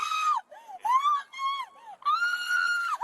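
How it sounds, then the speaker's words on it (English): A woman screams in long, piercing, wavering cries, several drawn-out shrieks broken by short pauses, loud and close, during a traffic stop with police dogs. "She's screaming bloody murder."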